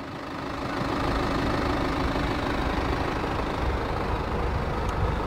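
A 2020 BMW 320d Touring xDrive M Sport diesel settles into a steady idle just after starting, a close, even clattering rumble with a faint knocking texture and no speech.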